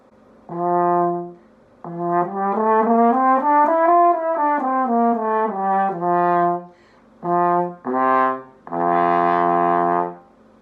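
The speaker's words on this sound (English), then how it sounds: "that's the French horn" A French horn plays a short melodic phrase, held notes rising and falling smoothly, then a few separate notes ending on a louder sustained tone.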